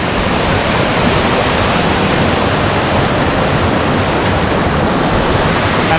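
A fast-flowing river near Watersmeet in Exmoor National Park rushes in a loud, steady broadband roar, close and constant with no pauses.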